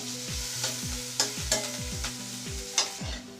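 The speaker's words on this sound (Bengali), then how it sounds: "এবার ভালো করে ভেজে নিব সবজিগুলোকে।" Vegetables with garlic sizzle steadily in a hot pan for white sauce pasta while a utensil stirs and scrapes rhythmically, with sharp clinks every half second or so.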